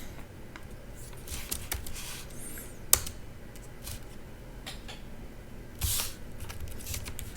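Computer keyboard typing comes in uneven bursts of light key clicks, with short pauses and a few sharper taps standing out, close and fairly quiet.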